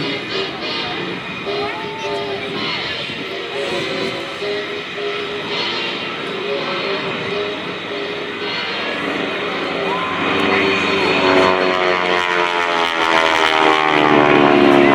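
A propeller airplane engine performs a classic loop at an airshow, a loud, continuous droning roar whose pitch and intensity swell toward the end as the plane comes around, with crowd ambience beneath.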